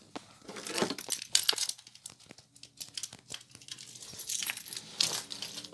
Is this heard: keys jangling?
yes